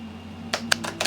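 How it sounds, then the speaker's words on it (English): Cards for the board game We Have A Problem, Mr. President being shuffled, heard as several quick papery riffles over low steady room hum, close and fairly quiet, with no talking. "We're going to shuffle our crisis cards."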